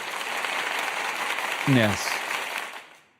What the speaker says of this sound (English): That applause was for the Minotaurs.